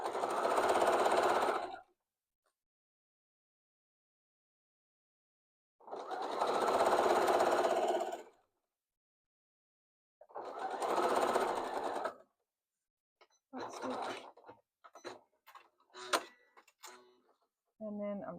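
A sewing machine stitches elastic onto an apron in three separate loud, steady bursts of rapid mechanical whirring, separated by silence, followed by a person talking.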